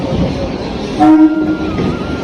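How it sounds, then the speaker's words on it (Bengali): A train rumbles into a station with a brief horn toot midway, heavy low noise throughout and a steady mechanical drone. "আর এই আমাদের এখন ট্রেন ঢুকছে"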